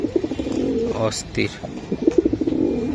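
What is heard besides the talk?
racer pigeon calling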